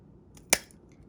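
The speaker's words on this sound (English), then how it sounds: "so I'm just gonna cut these, or cut this one and then cut the rest later" Scissors slice through packaging material in a single sharp, close snip, with quiet room tone before and after.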